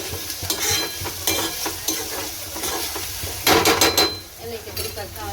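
Chopped tomatoes are stirred in a sizzling pan for pav bhaji, with a spoon scraping and clinking against the metal under steady frying noise, close by and without talk.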